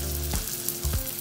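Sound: garlic frying in oil

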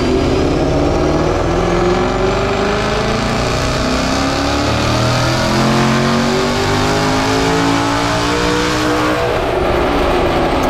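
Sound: twin turbo Mustang engine revving on a dyno

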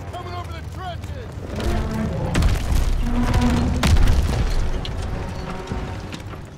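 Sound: tanks advancing in a WW2 video game

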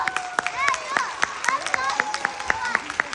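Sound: audience applause at a school talent show

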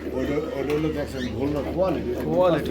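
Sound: pigeons cooing at farm

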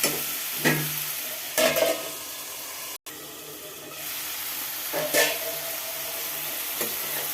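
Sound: stirring onions and green chilies in a pan

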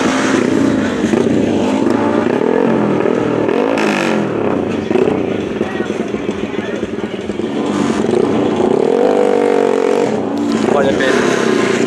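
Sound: Yamaha Exciter racing motorcycle, 150 cc, at speed race

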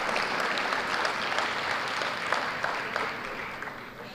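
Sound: audience applause at a panel

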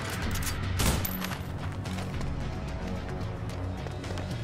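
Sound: gunfire in a video game

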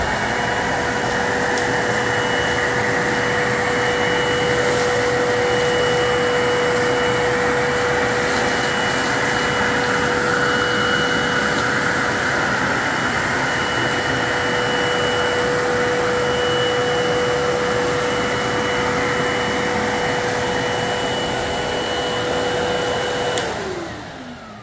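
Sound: Bissell Liftoff Revolution Turbo vacuum cleaner running

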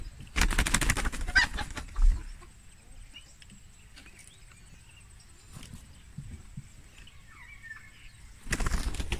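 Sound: chicken flapping its wings after being thrown

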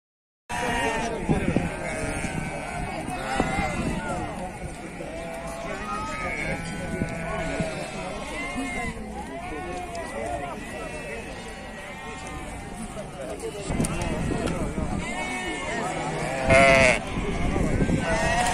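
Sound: sheep and lambs bleating at a livestock market

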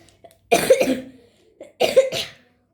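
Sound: cough

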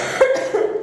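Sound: cough

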